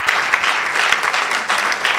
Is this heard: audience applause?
yes